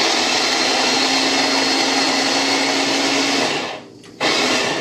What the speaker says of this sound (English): I put it in a blender, a little mini blender like that. I'm going to blitz it.